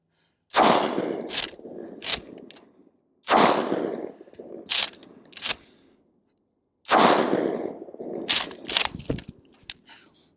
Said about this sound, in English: First up will be the non-buckshot load. Put a few rounds through it.